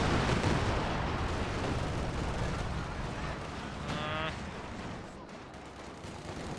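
Werfer rocket artillery barrage in the Company of Heroes strategy game, a dense rumbling wash of explosions and blasts with a brief whistling rocket streak, loud and continuous.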